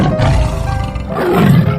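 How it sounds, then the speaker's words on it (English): A big tiger roars twice in a game, loud and close, each roar a long rough growl with no one talking. "Tiger."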